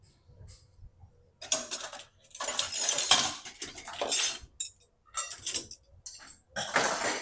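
Forks clink and rattle in an irregular series of bright metallic bursts while being gathered in a home kitchen, close and fairly loud, with short pauses between clusters and no talk over them.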